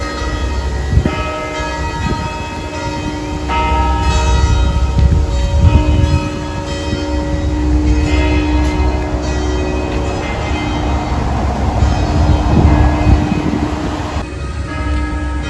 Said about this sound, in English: the church bells are going off